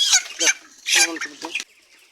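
Chickens cluck in short bursts at a poultry farm holding about 1,500 to 2,000 birds, nearby and fairly loud, with a clear pause between calls.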